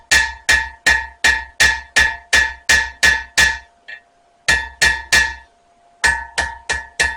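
Hammer strikes on a hot steel Viking knife blade being beveled at the anvil, loud ringing metallic blows in a steady rhythm, a short pause, then more even strikes, with no talking.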